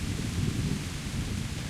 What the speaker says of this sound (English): The rain is still pouring, by the way.